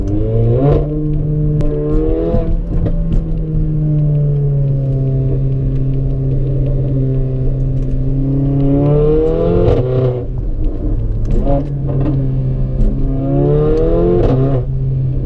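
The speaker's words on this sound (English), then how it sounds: "It is catless, and I do have a resonator delete, so it does sound louder. It does sound a little throatier" A Mercedes GLA 45 AMG with a catless downpipe and a resonator delete revs repeatedly up close. The throaty engine note rises and falls in several loud blips over a steady idle, with no talking.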